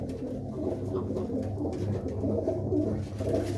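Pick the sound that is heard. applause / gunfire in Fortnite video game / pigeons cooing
pigeons cooing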